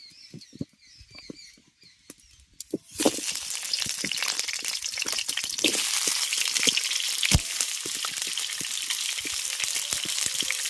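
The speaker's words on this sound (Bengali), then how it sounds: "প্রথমেই আমি আলুগুলোকে এরকম বড় বড় সাইজের টুকরো করে কেটে নিয়েছি এবার এগুলোকে একটু ভেজে নেবো" Large potato chunks frying in oil: after a few quiet seconds of small clicks, a loud, steady broadband sizzle begins and continues with crackling pops, close and alone.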